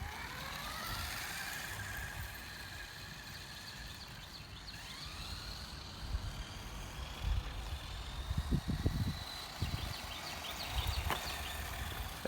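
A restored 1985 Kyosho Optima RC buggy runs with an electric motor and small orange ESC, giving a thin high whine that rises and falls as it drives, with scattered knocks and bumps from the chassis and wheels over a steady background.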